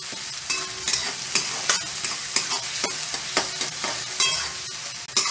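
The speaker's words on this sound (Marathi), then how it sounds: "कांदे चांगले गुलाबी रंगावरती परतावे." Finely chopped onions sauté in a pan for a crab gravy, stirred with steady repeated scrapes and clacks over a continuous close sizzle, with no talking.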